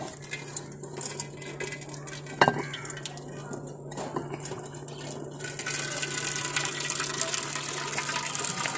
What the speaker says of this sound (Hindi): इसका जो एक्स्ट्रा से पानी है वो थोड़ा सा हम रिमूव करने लगे हैं